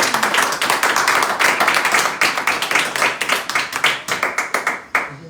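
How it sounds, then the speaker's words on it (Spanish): A church congregation claps during a sermon, brisk sharp handclaps from a smallish group, close and loud, thinning into distinct individual claps before stopping near the end. "Dale un aplauso al Señor a la iglesia"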